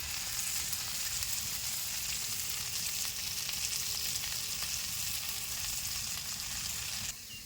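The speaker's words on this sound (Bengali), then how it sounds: "একটু ভালো করে কষিয়ে নিতে হবে। লঙ্কার সেন্টটা যেন চলে যায়।" Paneer and cauliflower curry with green and dried chillies and salt frying in a pan, a steady dense sizzle that runs unbroken and close, with faint stirring underneath and no talk.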